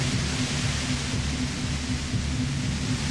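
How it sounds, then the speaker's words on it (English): A steady wash of loud hissing static from the video game Disco Elysium, broad and unchanging, with a low rumble beneath and no voices. "The voice trails off into white noise in your head."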